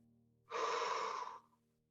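One long, close breath pushed out for about a second during a stretching and strength workout class, rising sharply, holding steady, then fading into quiet.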